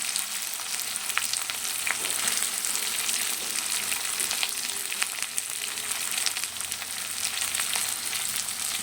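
Large cut onion pieces sautéing in hot oil with dal for capsicum vangibath, a steady bright sizzle with faint crackles and occasional stirring scrapes, close and continuous with no talk.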